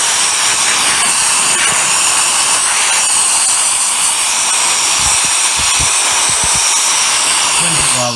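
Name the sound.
GT Power Jet Fan compact blower cleaning an RC car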